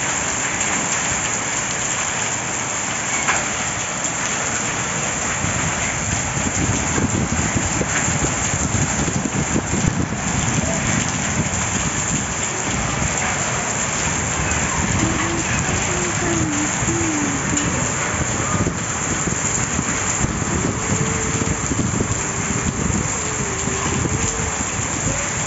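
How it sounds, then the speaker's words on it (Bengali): Heavy rain and hail pouring down during a storm in Bangladesh, a dense continuous roar of drops hitting surfaces, steady and close, with faint voices and wind in the background. "বাংলাদেশে অনেক বৃষ্টি হচ্ছে এবং শিলা বৃষ্টি পড়তেছে।"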